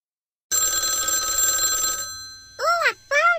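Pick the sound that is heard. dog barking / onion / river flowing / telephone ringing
telephone ringing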